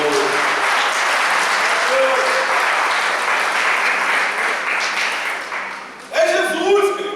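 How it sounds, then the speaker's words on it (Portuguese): A church congregation at a Sunday evening service applauds in a loud, sustained roar of clapping that fades toward the end before a voice cuts in with speech. "Então aplauda esse Jesus maravilhoso."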